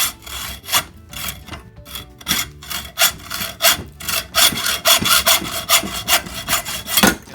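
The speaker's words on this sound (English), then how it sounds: "I'm just going to take a hacksaw and just cut through this by hand." A hacksaw worked by hand cuts through a watering can's conduit, giving steady, rhythmic back-and-forth rasping strokes that are loud and close, with no talking.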